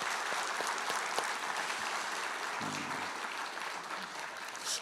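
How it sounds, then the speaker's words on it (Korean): Sustained applause fills a Democratic Party assembly hall during a meeting of newly elected lawmakers, a steady dense clapping from many hands at an even level throughout. "당선자 여러분들 지금 박수 쳐주는 것은"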